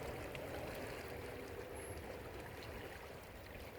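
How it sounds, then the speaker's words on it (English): Continuous soft rush of flowing water, like a stream, steady and fairly quiet with no voices. "sounds of the water"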